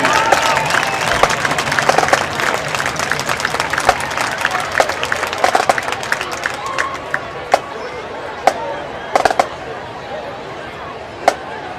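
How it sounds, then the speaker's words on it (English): A large crowd at a homecoming high school football game applauds and cheers loudly and steadily for a marching band, with a few sharp claps and knocks standing out as it continues. "Big round of applause"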